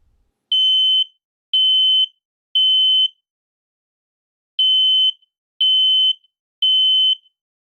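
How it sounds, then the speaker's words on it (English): A smoke alarm emits shrill, piercing beeps in two groups of three, each beep about half a second long, loud and alone. "Know what your smoke alarm sounds like"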